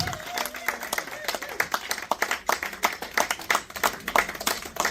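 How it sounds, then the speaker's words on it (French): A crowd at a 40th birthday party applauds with scattered, uneven claps, moderately loud, while a voice speaks over the top near the start. "Applaudissez très très fort."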